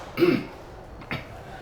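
During a moderated discussion about coronavirus, one person gives a loud throat-clearing cough followed by a shorter, fainter second cough, with no talking over it.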